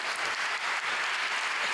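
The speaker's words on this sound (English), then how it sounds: "A little round of applause for the first person here." Brief burst of audience applause at a live author event at the Sixth & I venue, a dense, steady patter of many hands clapping together.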